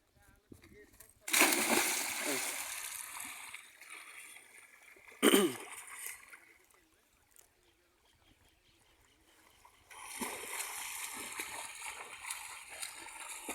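Splashing and sloshing water as a person swims and dives in a river, loud bursts of churning water with a sharp splash midway, then quieter trickling before the splashing resumes; a voice speaks in places.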